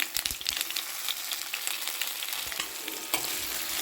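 Steady crackling sizzle of radish-leaf muthiya frying in hot oil with sesame seeds and asafoetida, close up, with a few sharper pops and light scraping as it is stirred.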